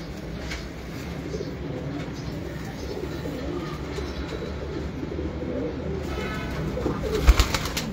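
Loft pigeons kept at home make cooing sounds over a steady, fairly loud bed of noise that holds throughout, with a few sharper bursts near the end.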